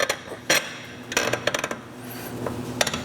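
Long steel carriage bolts drop through a hole in a lower bracket while a Firestone air bag suspension kit is fitted to a vehicle, giving a few sharp metallic clinks and taps, close and fairly quiet, with some rubbing between them.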